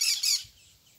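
A parakeet gives two harsh, loud squawks in quick succession, then falls quiet into faint low background noise.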